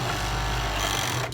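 A sewing machine runs steadily while stitching the sleeve of a teddy jacket, a dense rapid mechanical buzz close by that stops abruptly near the end.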